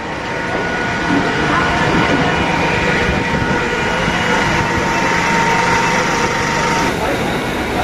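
A Howrah–Jaleswar MEMU special local train runs with a steady, loud rumble of engine and rolling wagons, faint rail clatter beneath, continuous throughout with no break.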